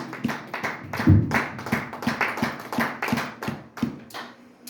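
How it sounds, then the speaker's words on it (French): A church congregation at a Sunday service in Montreal applauding loudly, dense rhythmic clapping from many hands that fills the room and continues steadily throughout. "On acclame très très fort le Seigneur Jésus."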